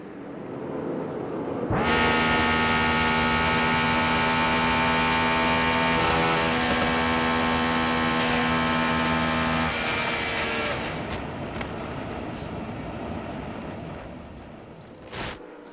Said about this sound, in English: when Tony Stewart's engine blew on the front stretch